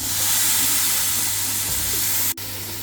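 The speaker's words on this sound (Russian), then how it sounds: "Жарим еще 5 минут." Pork loin steaks frying on an electric grill give off a steady, loud sizzling hiss that carries on unbroken, with one sharp click near the end.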